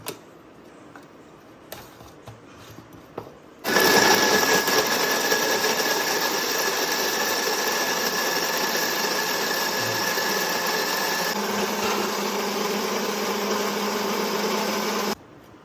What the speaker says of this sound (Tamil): ஃபைனலாக உப்பு சேர்த்துட்டு அரைச்சிடலாம்